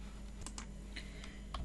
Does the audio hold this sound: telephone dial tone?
no